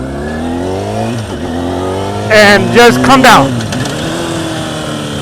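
A motorcycle engine held in a steady drone, then blipped in a few sharp rising revs as the rider downshifts to engine-brake, close and loud, with someone speaking briefly over it.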